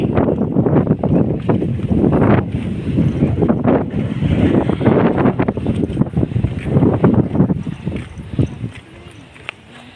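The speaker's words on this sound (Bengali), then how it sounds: "এখানে সেই বাতাসের পাওয়ার তোমরা শব্দ শুনেই বুঝতে পারবে" Strong wind on a bridge buffets the microphone with heavy, gusty rumbling and roaring that rises and falls continuously, easing near the end.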